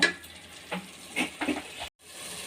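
Ginger garlic paste fries in a pan while being stirred, a soft sizzle with a few scraping strokes of the spoon, close and moderate, cutting to a brief silence near the end.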